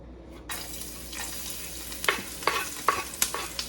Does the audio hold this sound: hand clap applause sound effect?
no